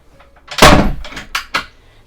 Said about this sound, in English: I just noticed that door just misses the toilet when it's opened